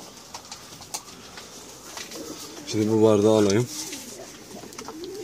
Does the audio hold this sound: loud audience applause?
no